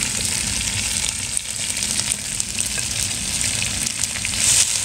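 Onions frying in a hot pan for mussel dum biryani, a steady, close sizzle with crackling pops that runs without a break.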